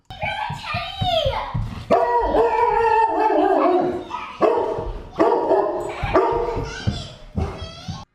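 A reactive dog barks and howls excitedly at a visitor in a repeated run of loud, close bursts with whining, strained tones between them.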